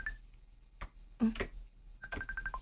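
A cellphone ringing with an incoming call, a few short beeping tone bursts at the start and end with rustling and a voice in between, fairly quiet.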